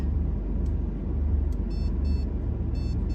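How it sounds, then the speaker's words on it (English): Short, faint electronic beeps chirp several times in small clusters over a steady low engine rumble inside a vehicle. "Y'all are going to hear the beep"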